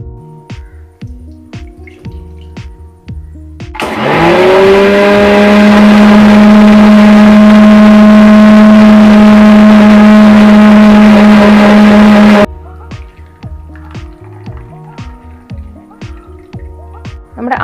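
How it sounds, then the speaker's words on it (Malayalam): Mixer grinder blending coriander leaves with added water, a loud steady motor whine that starts abruptly, holds for about nine seconds and cuts off, with quieter clatter and handling sounds before and after. "കുറച്ച് വെള്ളവും കൂടി ഒഴിച്ചിട്ട് നമുക്ക് നല്ലതുപോലെ ഒന്ന് അരച്ചെടുക്കാം."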